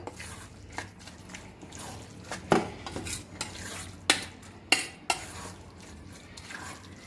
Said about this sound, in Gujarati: અને હવે આને પણ સરસ મિક્સ કરી દઈએ આ રીતના